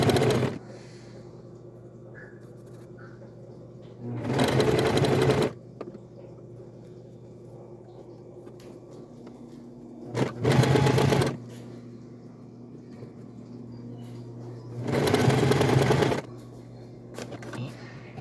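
A sewing machine runs zigzag and straight seams on small towels or handkerchiefs in three loud, close bursts of fast whirring stitching, each a second or so long, separated by quieter pauses with a low background hum.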